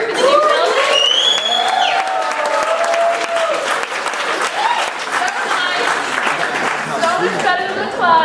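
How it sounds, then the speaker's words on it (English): An audience at an engineering seminar applauds and cheers for a new engineering building, a sustained burst of clapping mixed with scattered whoops and crowd voices. "Everyone cheer, give a cheer for the new building."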